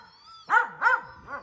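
Dogs on a farm during a Québec winter bark three times in a row, loud and close, with a whining, yippy edge to each bark and no talking.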